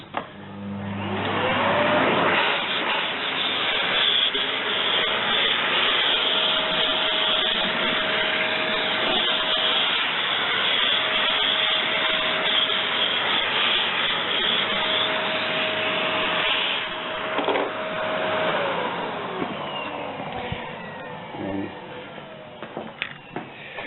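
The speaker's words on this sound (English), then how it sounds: "you just do a quick vacuum to clear out a few bits and pieces" A vacuum cleaner clears debris from a sliding door's running channel, a loud steady whine and roar lasting about twenty seconds before cutting out, with the pitch shifting slightly as the nozzle moves.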